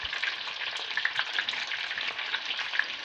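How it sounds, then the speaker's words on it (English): Cheeseburger eggrolls frying in hot oil, a dense, continuous bubbling sizzle with constant small crackles, close and steady throughout. "I will fry those up"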